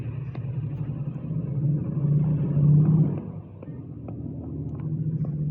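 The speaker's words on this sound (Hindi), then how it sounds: "तरह तरह की गाड़ियों की आवाज़ सुनाई देगी आपको" Road vehicles passing outside a lecture room, a steady low engine rumble that swells as one car accelerates by mid-clip, then eases off before building again, moderately loud and continuous with no talk.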